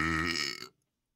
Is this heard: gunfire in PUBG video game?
no